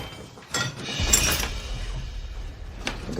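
Household items crash and glass shatters in a burst, followed by scattered clinks and debris. The sound is moderately loud and there is no talking.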